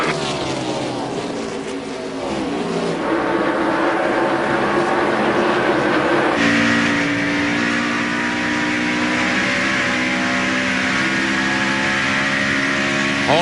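Onboard a NASCAR stock car driven by Greg Biffle in the 2001 MBNA.com 200 race, the engine roars loud and steady at high revs, its pitch shifting as it gears up and sweeps through the corners.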